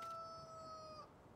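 Chickens in the Farming Simulator 19 game, heard as a rooster-like crowing call with sustained tonal lines lasting about a second, fairly clear and alone.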